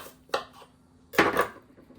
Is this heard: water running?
no